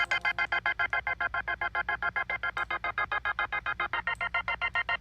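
Synth note in Ableton run through a low-pass filter pulsed by a square-wave LFO, giving a steady rapid on-off chop of about six beats per second, even and moderately loud throughout.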